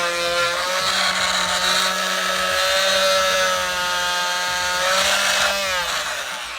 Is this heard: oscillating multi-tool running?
yes